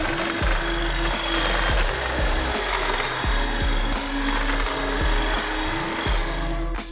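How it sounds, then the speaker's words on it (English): Battery-powered DeWalt hedge shears trimming sun-scorched bushes, a steady close buzzing motor with rhythmic repeated cutting strokes roughly every half second throughout. "But I love these battery-operated shears from DeWalt."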